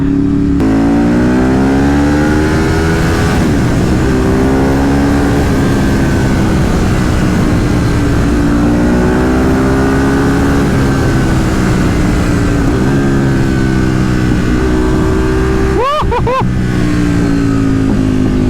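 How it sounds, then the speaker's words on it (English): A loud Ducati 848 EVO Desmo engine revving up and down repeatedly, close by, with rising and falling pitch and a sharp burst of throttle near the end. "Oh, that Desmo engine"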